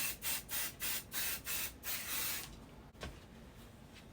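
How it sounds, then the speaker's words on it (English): Spray-and-bond basting adhesive spritzed onto quilting fabric indoors, seven short rhythmic hissing bursts in quick succession, close and fairly loud, then quiet room tone. "It's spray and bond basting adhesive. And you should probably do it outside. I don't. I just spritz."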